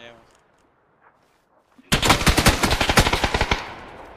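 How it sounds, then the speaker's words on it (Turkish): Gunfire from the battle royale video game PUBG, a Dragunov sniper rifle and FAMAS in play: after near silence, a loud, rapid burst of about fifteen sharp shots hammers out for roughly two seconds, then stops. "Sniper bana sıkıyor."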